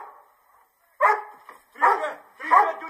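Dog barking indoors in an old Dutch film about a shepherd dog, three sharp close barks in a row after a brief faint sound, with no speech during the barks.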